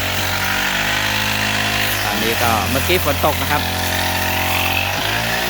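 A grass trimmer fitted with a newly replaced cutting head drones steadily and close by, cutting grass in a yard, while someone talks over it.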